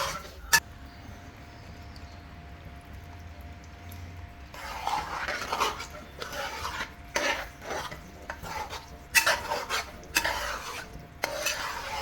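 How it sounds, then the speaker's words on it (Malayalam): A jaggery mixture for Kerala ada pradhaman is stirred in a pot, giving steady scraping, rasping strokes that come in bursts, close and moderately loud, with no talking. "ഇനി ഇത് രണ്ടും കൂടി നല്ലപോലെ മിക്സ് ചെയ്ത് നന്നായിട്ടൊന്ന് ഇളക്കി റെഡിയാക്കി എടുക്കുക."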